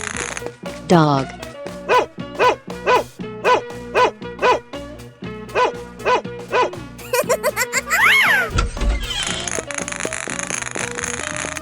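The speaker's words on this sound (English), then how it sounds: "Dog." A dog barks repeatedly in a 3D animal sliding video game, a steady run of about a dozen evenly spaced, loud barks over game music, followed by a brief rising cartoonish sound effect.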